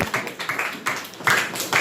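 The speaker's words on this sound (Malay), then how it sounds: "beri tepukan kepada Raja" Classroom students clapping for a classmate, a short burst of scattered, uneven claps in rapid irregular rhythm, fairly close and moderately loud, with no talking.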